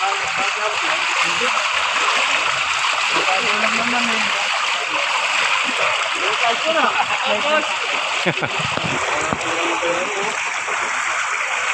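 Loud, steady rush of fast-moving river floodwater during a typhoon, with constant splashing and churning, continuous throughout, with voices faintly mixed in.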